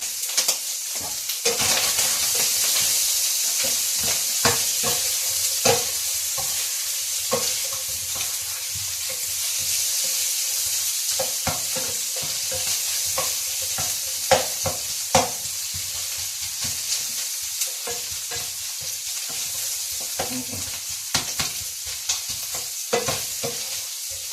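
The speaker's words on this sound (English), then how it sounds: "I'll just put a bit of water in here." Spinach and paneer curry sizzles and crackles steadily in a hot pan after a splash of water, with repeated scraping clicks of a spoon stirring through it, close and continuous without talk.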